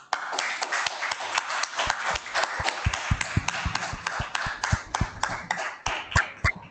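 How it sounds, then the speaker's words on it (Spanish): Small audience clapping at a talk, distinct individual hand claps overlapping in an uneven rhythm, close and fairly loud throughout. "te vamos a dar aquí un fuerte aplauso."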